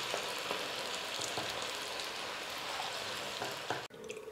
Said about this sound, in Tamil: இதே போல் மீதி இருக்கிற எல்லா கோஸையுமே எண்ணெயில் போட்டு ஃப்ரை பண்ணி எடுத்துக்கலாம்